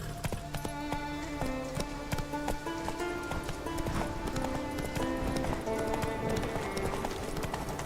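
Roach, the horse in The Witcher video game, gallops with a rapid, steady clip-clop of hooves over a musical background, the beat holding evenly from start to finish.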